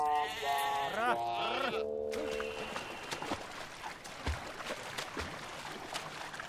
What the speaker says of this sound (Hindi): कहाँ भेड़ बकरियों में ले आए आप?